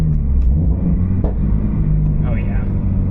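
A Subaru BRZ with a manual transmission driving along, its steady low engine and road rumble continuous and close, with a brief shift transient partway through and a person speaking over it.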